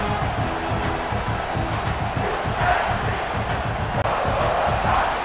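Packed college football stadium crowd at South Carolina versus Oklahoma, a continuous loud roar of cheering and chanting with rhythmic low thumping beneath it, steady throughout.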